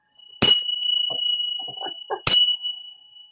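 A bell rings twice with sharp, bright dings about two seconds apart, each leaving a long ringing tone between strikes, with faint murmuring sounds in the gap.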